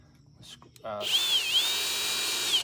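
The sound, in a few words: power drill drilling into wood for screws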